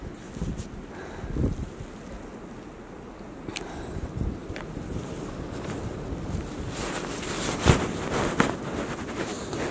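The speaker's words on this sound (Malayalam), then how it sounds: "ആ ഭയങ്കരമായിട്ട് കാറ്റും വീശുന്നുണ്ട്." Strong wind gusts outdoors during heavy snowfall by icy steps, roaring and buffeting the microphone in a continuous rumble with occasional knocks and swells; no speech.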